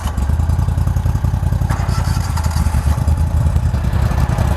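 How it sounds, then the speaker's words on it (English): The twin motors of a Hanko Boats Model 2096 CCFB with dual surface drives rev loudly and continuously, a rough, throbbing mid-pitched drone heard up close with no speech. "So I'm gonna crank up the motors."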